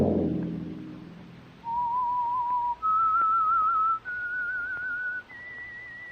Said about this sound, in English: Let that whistle be your signal for the Whistler each Monday at this same time.